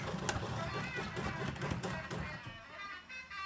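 A sewing machine back stitching a sleeve hem makes a close, continuous mechanical rattle that fades out near the end, with faint voice traces.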